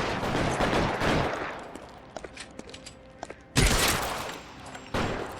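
Gunfire in the video game L.A. Noire comes as a loud opening burst of rapid shots, then scattered single cracks, and a final heavy blast with echoing tail. It is fairly close and there is no talk.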